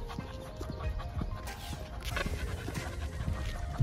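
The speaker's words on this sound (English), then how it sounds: "Look how good them bulls is breathing." Heavy, rhythmic panting from bulls being walked through a neighborhood, close by, with soft footfalls and light clatter mixed in and no talking.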